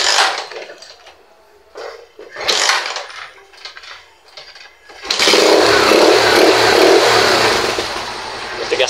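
Several short sputtering kicks and engine coughs, then a Rusi 125 motorcycle that was failing to start, with no electrical power, catches on a hard kick-start and revs up loudly into a steady, rough running drone.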